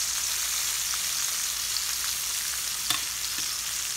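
Sausage, peppers and onions frying in a pan, giving a steady, even close sizzle with a faint tick or two from the pan.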